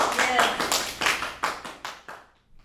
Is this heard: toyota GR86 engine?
no